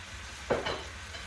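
Squash pieces dropped into a hot pan give a brief burst of sizzling and frying, swelling once and then settling into a quieter hiss, close and alone without any voices.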